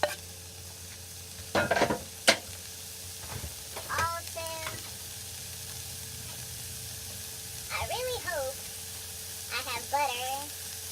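Celery frying in a pan with onions and carrots gives a steady, soft sizzle throughout, with scattered clatters of a utensil stirring and brief voice-like bursts of talk rising above it.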